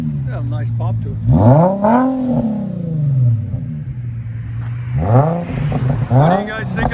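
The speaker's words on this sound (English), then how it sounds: "Infiniti FX35. Let you guys hear on these." A 2011 Infiniti FX35 with a 3.5L V6 and a muffler delete revs up twice from idle, each loud rise climbing and falling back to a rumbling idle, close by.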